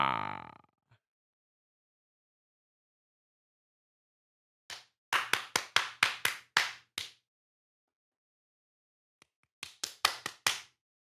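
Sharp hand claps come in two separate bursts of rapid, close slaps, each a short run of loud claps with silence between them, for audio syncing.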